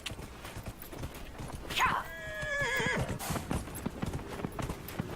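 Armored horse mount in Dragon Age Inquisition gives one loud descending whinny, with hoof clip-clops around it and brief faint background sounds.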